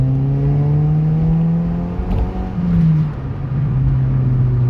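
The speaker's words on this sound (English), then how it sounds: "Yeah, I love how this car sounds." A track-day car engine pulls away hard, a loud, steady droning rev that rises in pitch with a brief dip and surge midway, close and continuous with no talk.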